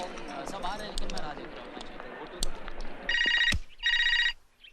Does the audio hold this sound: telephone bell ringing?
yes